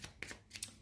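Tarot cards being shuffled and drawn, two brief quiet riffling bursts, close and faint.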